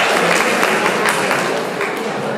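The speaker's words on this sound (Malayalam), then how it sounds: "കൈയടിച്ചോളൂ." An audience at a Kerala inter-school quiz fest claps in a dense, continuous burst of applause, loud and close, with some voices mixed in over the clapping.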